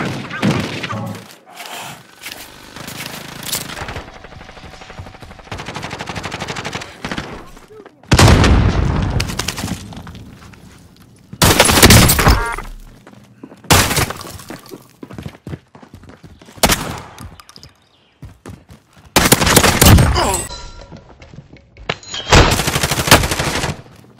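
Repeated heavy gunfire bursts in the Call of Duty Warzone video game, including shotgun blasts: loud, close booming shots in irregular clusters over a continuous game soundscape, with occasional voices.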